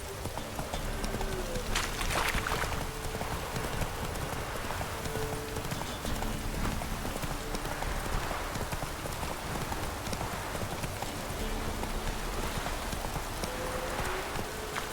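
Hooves of Roach, a horse in The Witcher 3 video game, clip-clop steadily at a quick gallop throughout, with rain-like patter and ambient game sound beneath.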